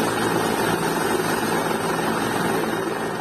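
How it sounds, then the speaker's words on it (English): Helicopter evacuating members of Sri Lanka's ruling party from a stadium, its steady rotor and engine roar loud and continuous throughout with no pause. "Dramatic images of chopper reportedly evacuating members of ruling party from"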